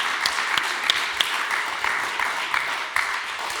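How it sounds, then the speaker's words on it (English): Applause from the audience welcomes a speaker at a medicines symposium, an even round of crowd clapping with a few sharper, nearer claps standing out, lasting nearly four seconds. "put your hands together, generous round of applause for Professor Ben Goldacre"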